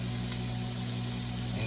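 Shrimp fry in a hot pan for a seafood loaded baked potato, giving a steady, even sizzle at close range with no talk.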